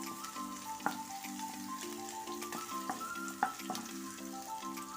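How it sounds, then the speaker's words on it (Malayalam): Chopped brinjal fries in oil for a Kerala mezhukkupuratti, giving a steady close sizzle with occasional stirring knocks. Sustained tonal notes, like soft background music, play throughout. "ഇനി വഴുതനങ്ങ ഇടാം മിക്സ് ചെയ്ത് കൊടുക്കാം"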